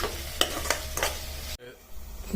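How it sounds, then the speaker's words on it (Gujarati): A spoon stirs brinjal and potato curry in a pan over a soft sizzle, with three scraping strokes close by, then the sound cuts away abruptly. "આને આપણે મિક્સ કરી લઈએ અને થોડી વાર એક બાફ માટે ઢાંકી લઉં"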